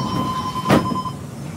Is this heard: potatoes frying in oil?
no